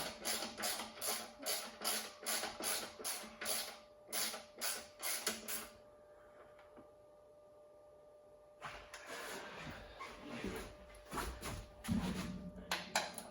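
Mounting bolts on a 2009 KTM RC8 motorcycle are tightened with a ratchet, a steady series of close clicking strokes, then a pause and a softer stretch of rattling and scraping work.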